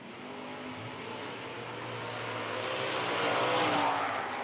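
Camaro and Duster drag race cars at an IHRA Outlaw Nitro Series event in Dunn, NC, engines rising in a building roar that grows louder toward the end, with no speech.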